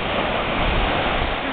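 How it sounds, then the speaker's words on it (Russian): Steady, broad roar of ocean surf at Capitola with no clear breaks, a continuous wash of waves heard from nearby. "Вот океан."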